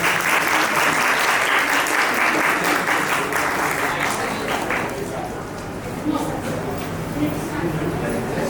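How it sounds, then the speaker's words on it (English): A literary festival audience in Hyderabad applauds as a judge takes the stage, loud sustained clapping from a large crowd that gradually thins and softens toward the end, with some voices mixed in. "Can I please get a big round of applause?"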